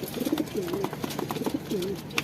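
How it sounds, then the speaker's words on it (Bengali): Pigeons kept in a home loft coo softly at close range, two or three rolling throaty calls repeating over faint background noise, no speech. "তো আমরা আমাদের 4 পেয়ার কবুতর দেখাই আপনাদেরকে আবার।"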